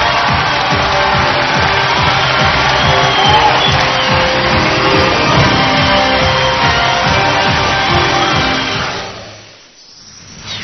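A studio audience at a Chinese television show claps and cheers loudly and continuously. A few shouts and whoops rise over the sustained applause, and it fades out at the end.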